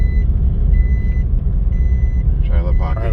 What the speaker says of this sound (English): Got an alarm